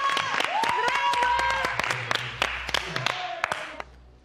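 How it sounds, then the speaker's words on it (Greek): Studio audience applause on a Greek reality TV show, a dense wash of clapping with scattered sharp claps standing out, while voices talk and call out over it throughout. "Πρέπει να τους χειροκροτήσουμε τώρα"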